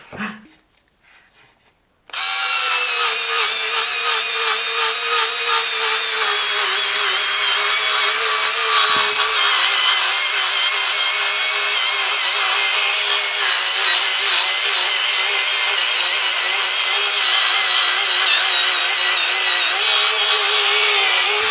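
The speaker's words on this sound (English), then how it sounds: "Let's see if it can drill." A small Parkside 4V cordless screwdriver fitted with a drill bit whirs steadily at high speed after a brief pause, its motor hum continuous and close with a slight grinding edge as it bores.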